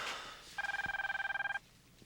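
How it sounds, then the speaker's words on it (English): A telephone rings indoors with one steady warbling electronic ring lasting about a second, fairly faint over a quiet room hum. "pick up the phone"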